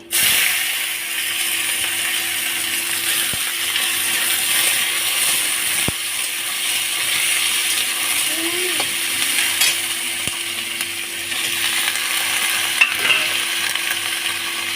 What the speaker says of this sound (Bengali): এরপর আমি কাজু কিশমিশটা এর মধ্যেই দিয়ে দেবো হালকা সটে করে নেবো বেশি না আমি সবজিগুলো দিয়ে দেবো